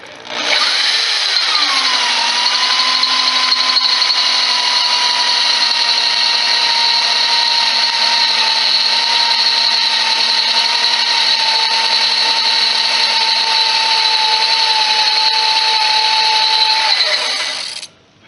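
A power drill with a Harbor Freight bit bores into steel for a zero-turn mower draw bar, its motor spinning up then holding a loud, steady whine close by for the whole stretch before winding down.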